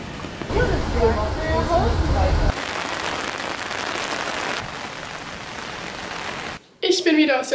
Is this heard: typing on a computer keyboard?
no